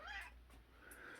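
A house cat in a kitchen gives a single drawn-out meow, fairly quiet and close, with no other sounds around it.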